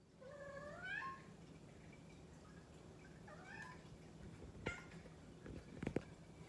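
Kittens meow several times at home, with a few rising, drawn-out cries early on, another meow midway and some soft clicks and taps near the end, all faint and close.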